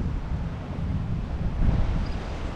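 Strong storm wind gusts around a bridge, buffeting the microphone with a steady low roar and rumble and no voices.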